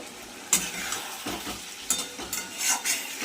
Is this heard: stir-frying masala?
yes